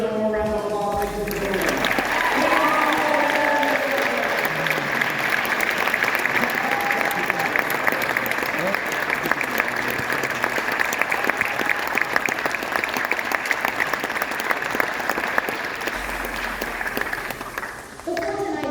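A university audience at a Mr & Miss Southwest pageant claps in a long, sustained round of applause, full and steady with crowd murmur, while a voice speaks briefly over the opening seconds.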